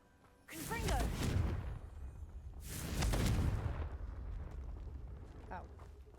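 Confringo fire spell blasting in Hogwarts Legacy, two loud booming explosions about two seconds apart, each with a rumbling crackling tail that lingers between and after them.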